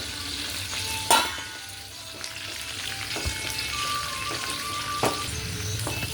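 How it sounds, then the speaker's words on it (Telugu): Sesame oil with salt, chilli powder, turmeric and garlic sizzles and fries steadily in a pan, with a couple of sharp clinks of a utensil against the pot over the constant bubbling hiss. "ఇందులో నువ్వుల నూనె, ఉప్పు, కారం, పసుపు, వెల్లుల్లి కారం అన్నీ కలిపి బాయిలింగ్ చేస్తున్నారు."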